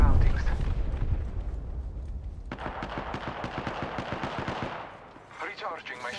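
Gunfire in Apex Legends, a steady rapid string of shots in the middle of the clip over a low rumble, with a voice briefly heard near the end.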